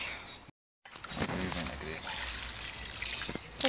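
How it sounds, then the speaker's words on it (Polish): Cold water pouring and trickling into a container, a steady close splashing stream after a brief silent gap, with faint voices in the background. "Czekaj, bo trzeba dolać zimną wody."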